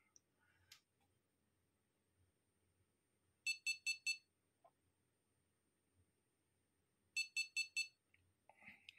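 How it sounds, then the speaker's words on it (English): Two bursts of four quick, high electronic beeps from a Delphi DS150E diagnostic setup during relay testing at 24 volts, separated by a few seconds of near silence with faint clicks and rustles. "You hear the beeping."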